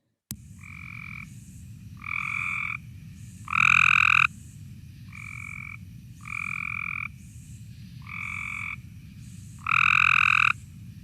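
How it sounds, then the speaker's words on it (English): A Cope's gray tree frog calls in about eight harsh, buzzy trills spaced roughly a second apart, some louder than others, over a faint low background hum. "the only tree frog species that we're aware of having is the Cope's gray tree frog. And it sounds like this."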